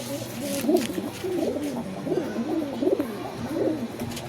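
Pigeons at a Bangalore loft coo in repeated soft, low rolling calls, overlapping at close range over a quiet background hum.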